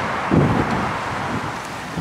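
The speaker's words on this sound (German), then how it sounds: "Es ist sehr windig." Strong storm wind gusting through Dublin streets, a loud continuous buffeting roar against the microphone with a brief heavier gust near the start.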